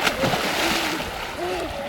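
Children jump into the deep water of a large, steep-sided mine pit, making splashes and sloshing water, with high voices calling out over the splashing.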